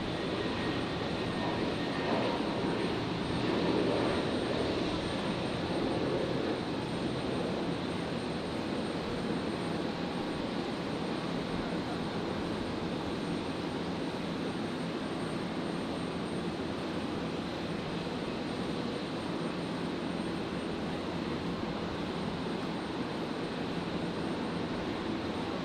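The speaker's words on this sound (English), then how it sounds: "New Zealand 148. Just about to rotate. The second 321 Neo. Heading to Auckland." An Air New Zealand Airbus A321neo takes off at Brisbane Airport bound for Auckland, its jet engines giving a sustained, even roar at a distance, swelling slightly early on and then holding steady, with no voices.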